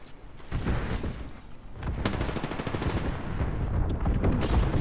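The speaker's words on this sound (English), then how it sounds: "I am taking fire, friends." Rapid gunfire from the Apex Legends battle royale game, sustained automatic bursts and shots overlapping continuously and loud throughout, with dense impacts and no speech.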